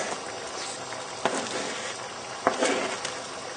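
Liquid bubbling steadily in a pan of chorizo and tomato chicken, a constant simmering hiss with a couple of sharper pops and spits.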